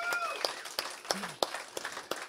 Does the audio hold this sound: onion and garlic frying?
no